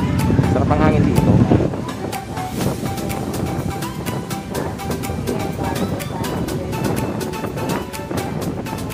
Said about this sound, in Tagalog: sarap ang hangin dito.